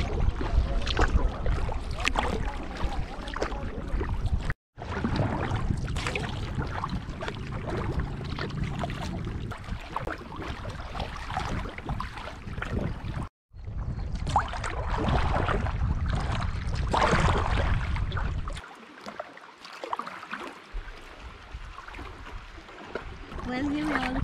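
A kayak is paddled along the rocky, cliff-lined Corsican coast on a sea circumnavigation. Continuous rushing water and wind noise run throughout, broken by two brief dropouts, with a quieter, calmer stretch near the end.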